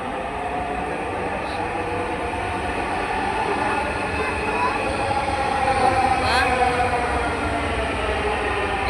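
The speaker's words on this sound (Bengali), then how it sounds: "আজকে আমরা মেট্রো রেল দিয়ে বোটে চলে আসলাম" A metro rail train at Karwan Bazar station rumbles steadily nearby, its roar swelling toward the end with a faint metallic squeal, while voices murmur in the background.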